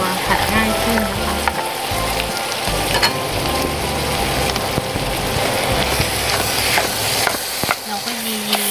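Day-old refrigerated rice stir-fried with pork for fried rice, a steady dense sizzle layered with the scraping and clanking of a spatula working the pan, loud and close throughout.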